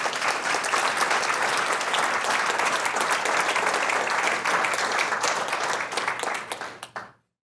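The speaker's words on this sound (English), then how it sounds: "please give them a round of applause for all the work they do" Banquet-hall audience at an awards dinner claps warmly for staff, a loud, dense round of applause that holds steady for several seconds, then tapers quickly and stops.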